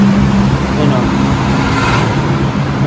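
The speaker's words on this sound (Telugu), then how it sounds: "ఇదిగో బ్యాంకాక్ ట్రాఫిక్." Busy Bangkok road traffic rolls past close by, a loud steady wash of car and vehicle engine noise with no break.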